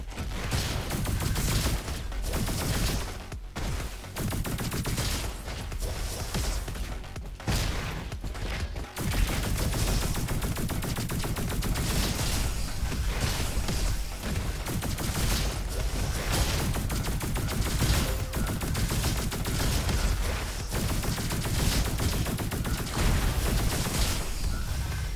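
Arctic Rifle fire in the video game RoboQuest, dense continuous rapid gunfire with explosive booms and mechanical clatter, loud and sustained throughout with only brief gaps.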